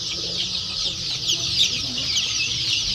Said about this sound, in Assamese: ইয়াত 1500 পিচ লোকাল মুৰ্গী আছে।